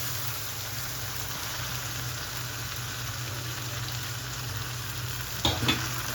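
Parboiled rice with ginger-garlic paste and spices frying in a pot for khichuri, a steady even sizzle and hiss throughout, with a short scrape of a spoon near the end.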